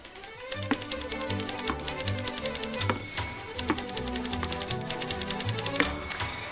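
Typing on a giant homemade keyboard: a steady stream of sharp clacking key strikes with occasional heavier thumps and a couple of ringing tones, continuous and close.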